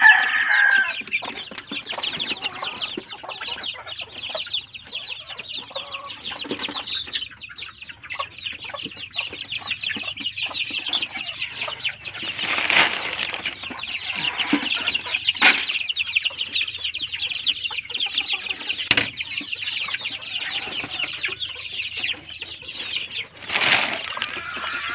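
Young native chickens clucking and chirping continuously, with bursts of wing flapping, close and busy throughout without talk.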